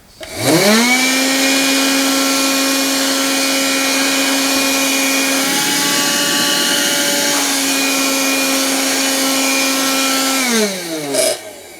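A Sinbo SVC3460 handheld vacuum cleaner spins up to a steady high-pitched whine, loud and close, shifts tone briefly midway while sucking up salt, then winds down at the end.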